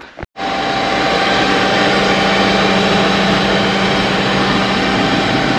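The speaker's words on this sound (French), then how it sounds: "Nous sommes dans un Deutz. Donc voilà, Deutz Fahr 6135C TTV" Steady engine drone of a Deutz-Fahr 6135C TTV tractor heard from inside the cab, running continuously and loud after a brief drop at the start, with a low hum and no talk.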